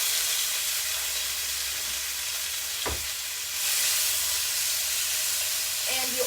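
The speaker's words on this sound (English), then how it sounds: "Then you want to immediately put in your meat." Meat sizzles in a hot wok with garlic for a shrimp stir fry, a steady close frying hiss that swells louder partway through, with a brief clatter near the middle.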